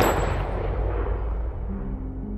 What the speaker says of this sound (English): And then... the gunshot.